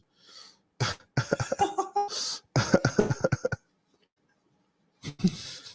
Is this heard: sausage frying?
no